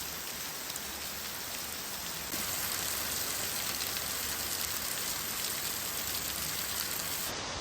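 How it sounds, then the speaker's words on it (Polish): Steady rain falling in Sandakan, Borneo, a dense, even hiss of drops that grows slightly heavier partway through, continuous and alone without voices. "Ładnie się rozpadało."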